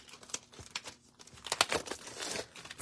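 Crinkly crunching and snipping as scissors cut through packaging, a string of short close cuts and rustles, louder toward the end.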